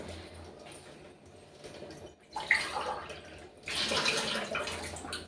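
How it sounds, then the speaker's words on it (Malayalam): Water is poured in two splashy bursts, a short one then a longer one, over a quiet background. "അടുത്തതായിട്ട് ഒരു അര ഗ്ലാസ് വെള്ളം കൂടി ഒഴിച്ചു കൊടുക്കുന്നു"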